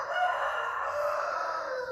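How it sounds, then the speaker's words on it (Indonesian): A rooster crows in one long, loud, sustained call that fills the whole moment, with no talk over it. "Waduh, banyak banget suara ayam ya, maaf ya."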